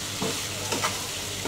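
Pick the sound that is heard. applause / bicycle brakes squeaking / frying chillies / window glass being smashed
frying chillies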